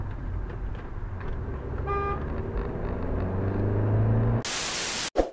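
A car horn sounds in traffic as a short tonal honk around the middle of the clip over steady road and engine noise, followed by a burst of loud static and a bump at the end.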